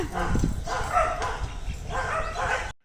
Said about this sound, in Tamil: நாய் தான் ஒரு 20 நாய் கிடக்கு வீட்டை சுத்திக்கிட்டு